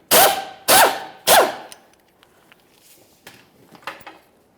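Three loud, sharp bursts from a power tool spinning out the sway bar bracket mounting bolts on a 1999-2006 Chevrolet Silverado 1500, close up, followed by faint clicks and small metallic handling noises.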